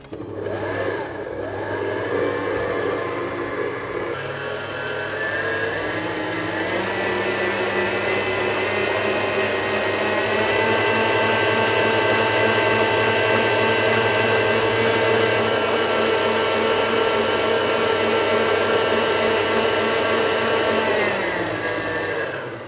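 An electric mixer whirs steadily as egg is beaten into waffle batter, a loud continuous motor drone with a shifting pitch that runs almost the whole time and then cuts off near the end.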